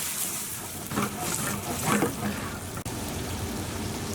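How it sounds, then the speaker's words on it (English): Two 400 gram cans of diced tomatoes pour into a hot pan of frying garlic, giving a wet, splashing sizzle that swells and settles over a few seconds, close and moderately loud. "next we're going to add in 2 400 gram cans of diced tomatoes."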